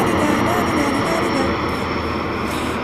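An airplane passes overhead near Prague as a loud, steady engine drone that holds through the whole stretch, with some speech mixed in.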